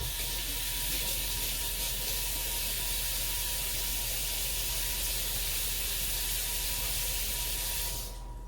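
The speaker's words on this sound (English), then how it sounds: "I'm just getting my turkey all browned here" Turkey legs browning in a skillet for a lemon pepper Thanksgiving dish, a steady, loud hissing sizzle holding evenly for about eight seconds before cutting off abruptly near the end.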